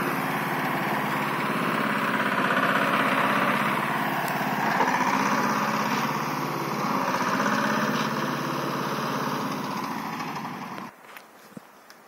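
A Mahindra Jivo 225DI mini tractor strains its engine hauling a large trolley stuck in a soft field, a loud, continuous throbbing drone close by that drops away abruptly near the end, leaving a few faint knocks.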